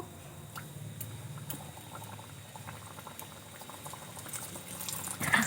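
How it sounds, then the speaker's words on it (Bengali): Lachha khaja pastries fry in oil over low heat, giving a quiet, steady bubbling that swells slightly near the end. "হালকা হিটে ভেজে নিতে হবে"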